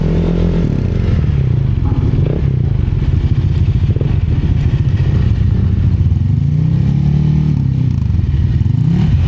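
Loud motorcycle engines rumble and rev nearby with clattering and scraping, a continuous dense racket of several bikes moving up close as they drive onto a roll-on/roll-off ferry.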